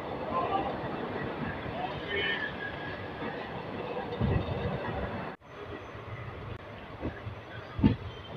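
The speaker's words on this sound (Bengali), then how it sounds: "আমরা ঢুকছি দক্ষিণেশ্বর স্টেশন।" Kanchanjunga Express pulling into Dakshineswar station, a steady moderate rumble of the train in motion with occasional clunks, and voices murmuring faintly throughout.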